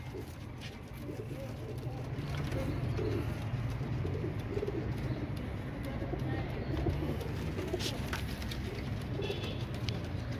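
Pigeons coo steadily in a loft or market setting, soft repeated throaty calls layered over a constant low background hum and scattered chirps, continuing without a break for about ten seconds.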